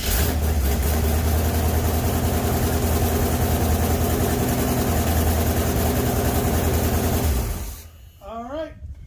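A heavy engine, just repaired with a rubber sleeve fitted over the dipstick tube, runs at a loud steady idle with a low rumble for several seconds, then cuts off abruptly, and a brief voice follows.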